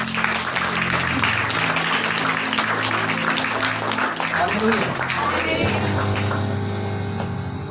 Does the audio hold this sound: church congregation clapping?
yes